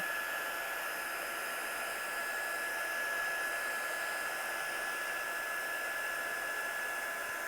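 A heat tool blows steadily while heat-setting fabric, a constant loud hiss-like airflow with a faint high whine, unbroken throughout.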